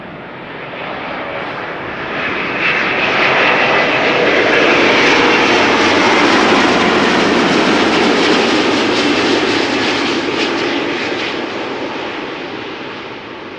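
A Delta Airlines Airbus A330neo on final approach to Amsterdam Schiphol roars in from a distance, swelling to a loud, broad jet rumble overhead and then fading away, with no voices.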